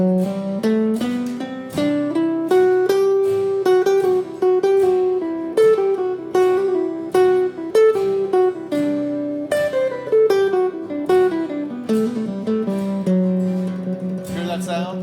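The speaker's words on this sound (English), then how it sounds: "Now I'm going to play C Lydian." A guitar plays a C Lydian scale as a string of clearly picked single notes. They climb and fall at an even, moderate pace, each note distinct and ringing, with no voice over them.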